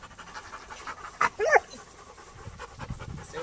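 Puppies panting in quick, breathy bursts up close, a sharp cluster of huffs in the middle over a faint, rustling indoor background.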